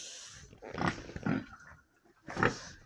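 Pigs grunting and squealing in a few short bursts, close by, with quiet pauses between.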